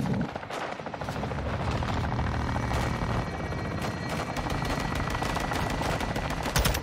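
A helicopter in Modern Warfare II carries out a fire mission, and rapid machine-gun bursts crackle over the constant thrum of its rotors. Sharp volleys recur throughout and stay loud and close, with no speech.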